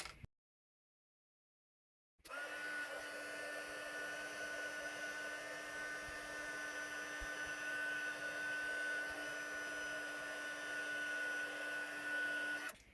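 A heat gun blows steadily to melt gold embossing powder on cardstock, a constant loud whir with a fixed hum running about ten seconds after a brief silence, no voices.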